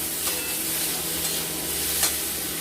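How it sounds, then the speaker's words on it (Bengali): Potatoes and yam being stirred and fried in a pan for a rohu fish curry, with a steady sizzle and a few light spoon clinks against the pan. "বেশি ভাজবো না আমরা সামান্য একটু নাড়াচাড়া করে দিয়ে দেবো জল"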